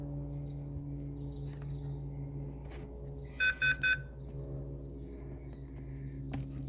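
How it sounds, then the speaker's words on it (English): Three short electronic beeps from an RC car radio sound in quick succession over a steady low mechanical hum. "This thing just beeped."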